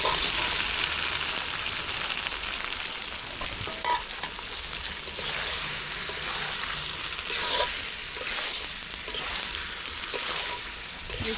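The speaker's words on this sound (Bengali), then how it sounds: "এবার ভেজে রাখা ফুলকপি আর আলুগুলো দিয়ে কষিয়ে নেব।" Fried cauliflower and potatoes being stir-fried in spice paste for katla fish curry: a steady close sizzle with repeated scraping stirs and spatula knocks in loose rhythm, and no voices.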